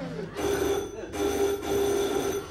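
Bell rung by someone at the door during a stage comedy, sounding in three sustained ringing bursts, fairly close and loud, with no talk over them.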